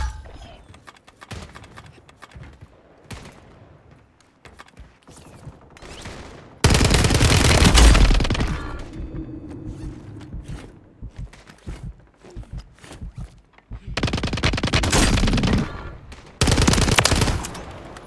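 A new assault rifle firing in Call of Duty on Rebirth Island: several loud full-auto bursts of a few seconds each, with quieter scattered shots and game noise between them.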